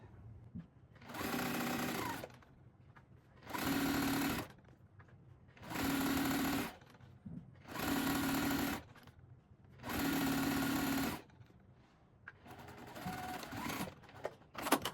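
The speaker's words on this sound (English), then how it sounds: "Now we're going to head to the sewing machine and get this seam in place." Sewing machine stitches a quarter-inch seam for continuous bias binding in five separate bursts of about two seconds each, with quiet pauses between, close and steady whirring, and no talking.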